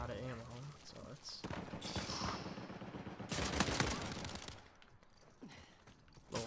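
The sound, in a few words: gunfire from a gun in the video game Uncharted 4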